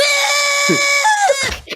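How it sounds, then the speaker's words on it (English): A South Park cartoon character's high, shrill scream rings out loud and close, wavering and breaking off at the end, with a brief voiced sound mixed in. "here's Butters' scream"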